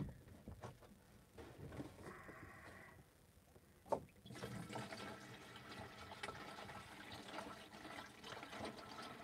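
Water poured by hand into a container for a makeshift shower at a wood-stove camp, splashing and trickling with a brief clunk midway, then a fuller continuous pouring rush.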